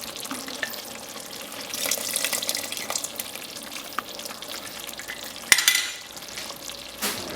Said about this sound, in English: And just give it a stir, just like that.